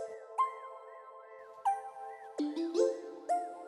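The Bell Birds bell synth from Kit Plug Status Bank plays a sparse melody, bright chiming notes with shimmering, wobbling overtones and airy space between them, heard alone.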